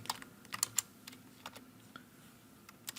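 Code being typed on a computer keyboard while programming an Arduino, with light, irregular key clicks and a few sharper taps in a quiet room.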